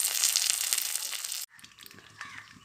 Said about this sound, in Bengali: মাছ লাল করে ভেজে নেব।